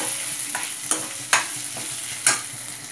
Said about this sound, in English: We need to stir until the raw smell of ginger garlic paste goes off.